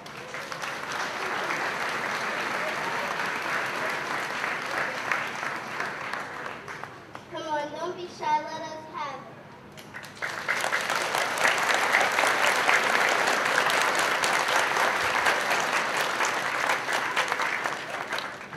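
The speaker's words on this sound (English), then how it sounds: "go ahead and clap your hands so we know where you are" At an elementary school spring concert, the audience claps loudly and steadily. The applause pauses briefly while a voice speaks, then swells again and continues to the end.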